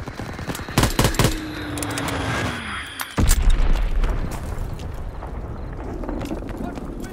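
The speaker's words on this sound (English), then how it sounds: "Recon airborne. Dropping Fritz X bomb." Gunfire and explosions from the World War II shooter game Call of Duty: WWII on Xbox One as a Fritz X bomb is dropped, with bursts of loud shots, a descending whistle and a heavy boom amid ongoing battle noise.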